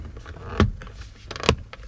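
Two sharp plastic clicks, roughly a second apart, as the clips of a head-up display screen snap into place in a Tesla Model 3 or Y, close up with faint background hum.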